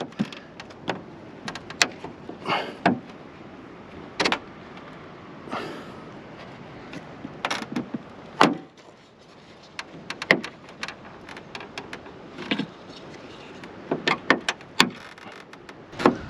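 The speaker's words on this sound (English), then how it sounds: "As you go across, you're going to hear little popping noises of it releasing." Plastic trim clips on the third brake light of a 2015-2020 Chevy Suburban, Tahoe or Yukon popping loose one after another as a tool pries along, giving irregular close clicks and snaps with light scraping between them.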